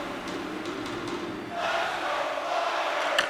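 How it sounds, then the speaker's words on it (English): A hockey arena crowd in the NHL 26 video game roars steadily during a Flyers versus Blues preseason game, a dense wash of cheering that swells louder halfway through. "You can feel the energy in this crowd."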